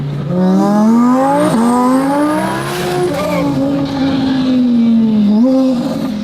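A fast exotic car accelerates hard, its engine note climbing loud and close, dipping briefly at gear changes before rising again in a continuous high-revving wail.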